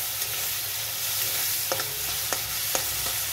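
Prawns and green chillies fry in a pan with a steady, close sizzle, broken by a few sharp scrapes and taps of a spatula stirring. No one speaks.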